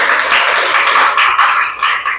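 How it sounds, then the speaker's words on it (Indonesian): Applause from a classroom of students for a group presentation, a dense, continuous burst of many hands clapping together, loud and close, sustained for a couple of seconds with no talking. "tepuk tangan dulu untuk kelompok Trihana"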